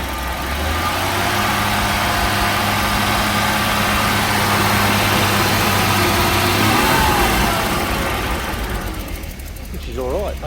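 An old car engine runs close by, a steady low rumble with slight uneven misfiring, then settles as its tone shifts near the end.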